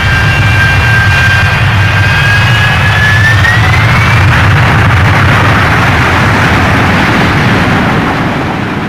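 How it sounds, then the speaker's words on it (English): Big Wind, a firefighting machine built on a 50-year-old relic and fitted with two MiG jet fighter engines, roars loudly and continuously at close range, with a high whine sliding upward early on. "it recycled 2 MiG-jet fighter engines, which were installed atop the 50-year-old relic"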